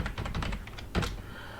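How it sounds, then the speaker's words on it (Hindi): Fingers type on a computer keyboard entering an Excel formula, a quick run of close, crisp key clicks followed by one heavier keystroke, with no talking over them. "रेंज या तो आप कीबोर्ड से टाइप कर लो"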